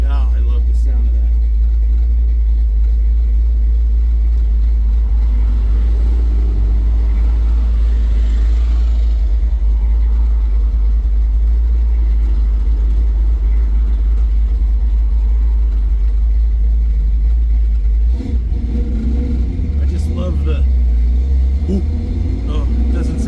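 A 1963½ Ford Galaxie's deep, rumbling V8 with a new exhaust burbles steadily throughout, with a heavy low exhaust drone and a brief surge of revving near the end.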